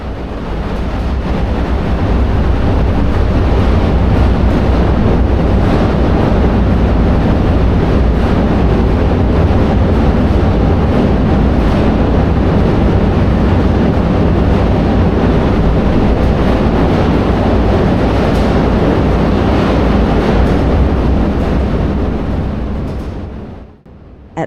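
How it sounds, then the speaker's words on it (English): Water rushing into a large hydroelectric turbine as it is admitted, a loud, steady, dense roar that holds constant for about twenty-three seconds before cutting off abruptly. "Now comes the most powerful part of this machine,"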